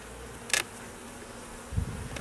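Honey bees buzz around an opened hive during an inspection, with one brief, sharp buzz as a bee passes close by and a low hum swelling near the end under steady background noise.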